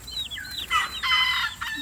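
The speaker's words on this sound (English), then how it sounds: "So we just put them in this chicken tractor." Chickens in a chicken tractor cluck and squawk in quick, close bursts, several calls overlapping over a couple of seconds with no talking.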